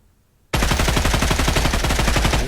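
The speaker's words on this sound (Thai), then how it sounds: "ปืนน่าจะเป็นปืนสไน" A sudden, loud stream of rapid sniper rifle gunfire in the mobile game Badlanders breaks a near-silence and continues steadily for about two seconds, shot after shot in quick rhythm.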